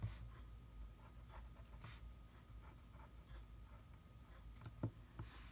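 Faint, soft scratchy strokes of a marker on paper, coming in short irregular bursts over quiet background noise.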